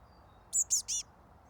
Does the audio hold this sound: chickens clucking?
no